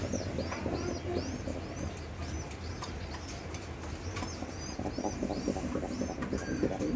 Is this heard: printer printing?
no